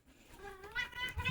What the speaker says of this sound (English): my cat, this is Fiona.